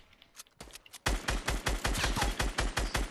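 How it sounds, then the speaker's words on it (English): Rapid automatic gunfire in Fortnite, starting faintly and then becoming loud, close, sustained bursts of evenly spaced shots. "I'm shooting."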